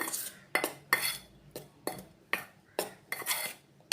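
A spoon mixes flour, cornflour, black pepper and salt in a metal bowl, striking the rim in a series of bright clinks with soft scraping between them, close and unhurried, with no voices.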